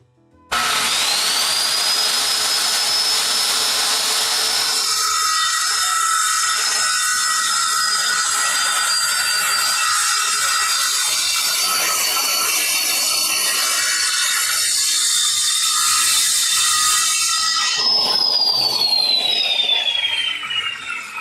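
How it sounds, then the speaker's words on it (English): A circular saw cutting lumber whines steadily at high pitch for a long stretch, loud and close, then winds down as the blade slows at the end. "I'm gonna make power tool noises."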